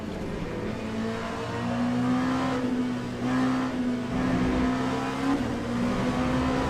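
An LMP2 prototype race car engine in a racing video game, lapping the Spa circuit: a steady, droning engine note that holds fairly level with slight rises and dips in revs, and no one talking.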